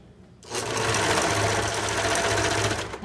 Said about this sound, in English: just sew along the edge of this.